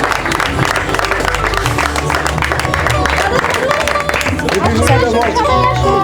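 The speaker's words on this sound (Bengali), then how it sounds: "একটা জোরে হাততালি" Loud applause and crowd noise fill an award ceremony for the best Durga Puja pandal, honouring Nalin Sarkar Street, with steady clapping mixed with chatter and background music throughout.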